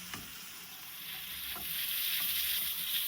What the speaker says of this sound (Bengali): এবার ভাজা বেগুনগুলো আমাকে ছেড়ে দিয়ে একটু মাখিয়ে দিতে হবে মশলা দিয়ে